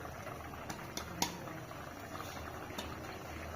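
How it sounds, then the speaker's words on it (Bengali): Potatoes boiling in a curry pot in a village kitchen, a steady bubbling simmer with soft pops and occasional sharper plops, close and even throughout. "বন্ধুরা আলুটাও বইলে গেছে, এই দেখো আলুটাও বইলে গেছে"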